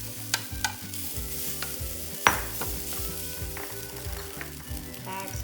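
Rice tipped into a pan with melted butter, coriander and lemon juice and stirred, giving a steady close sizzle with scraping stir strokes and one sharp clink, no talking.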